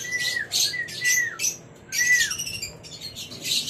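An agitated pigeon squawks again and again near a bird trap, each loud, close call sliding downward in pitch, with brief gaps between calls.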